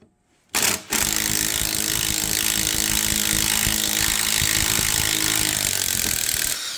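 An impact gun works on a galled bolt in a Toyota 3.4L 5VZ-FE engine during a timing belt job. Its loud, continuous rapid hammering runs close and alone for several seconds before cutting off.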